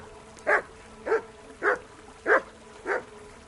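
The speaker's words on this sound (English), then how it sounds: "you silly doggy" A dog gives five evenly spaced barks or woofs over about three seconds, close and clear, each a short yappy burst with no talk over it.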